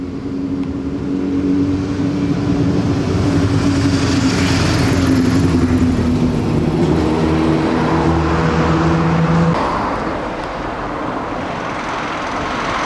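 Road traffic runs through a Scottish village in spring, a loud sustained roar of passing vehicles with engine drone rising and then easing as one goes by, all heard outdoors without talk.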